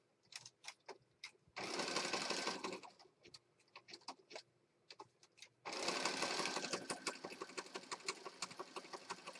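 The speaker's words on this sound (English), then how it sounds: "now we're going to stitch that for real this time" A sewing machine stitches a border onto a paper junk journal in two long, steady bursts of rapid mechanical whirring, separated and followed by shorter stop-start runs and handling clicks.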